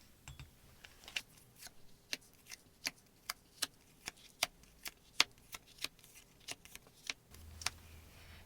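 Tarot cards handled and flipped over one at a time, a steady series of crisp, close flicks and slaps, about eighteen in quick succession with no voices.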